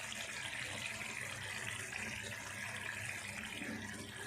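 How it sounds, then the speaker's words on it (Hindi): About a glass of water poured into a thick, fried masala in a pan for chicken kofta, a steady gushing pour with faint sizzle, continuous and close, no voices. "अब हम इसमें पानी ऐड कर देंगे।"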